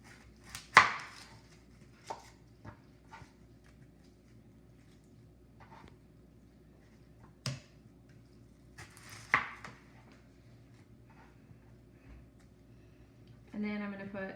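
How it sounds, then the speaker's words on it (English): A knife thuds sharply on a cutting board as the top and root ends are cut off an onion, a few scattered chops amid quiet gaps and soft talk. "we have the top of the onion and then the root of the onion. We're going to cut both of those off"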